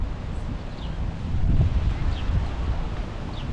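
Steady wind gusting through a park in Qatar by the Museum of Islamic Art, a low broadband rumble that swells in the middle and buffets the microphone, with faint rustling throughout.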